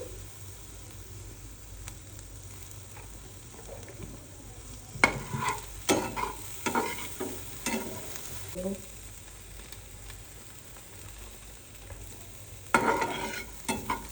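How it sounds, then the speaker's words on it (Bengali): Vegetables seasoned with salt and black pepper sizzle steadily in a pan, with a spatula stirring and scraping in clustered, close bursts over the constant frying hiss. "ভেজিসগুলো মোটামুটি ফ্রাই হয়ে গেছে।"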